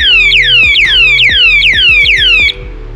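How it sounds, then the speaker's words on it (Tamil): An anti-theft alarm lock in a cookware shop sounds a loud, repeating electronic siren of falling warbles, about six rapid sweeps that stop abruptly near the end, leaving a low background hum. "அப்படின்னா அலாரம் வரும்."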